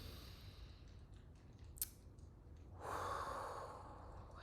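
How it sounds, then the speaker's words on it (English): A slow, deep breath, a soft airy inhale, then a louder, broader breathy exhale rising near the end, close and quiet with a small click in between. "Let's take a deep breath in on this one."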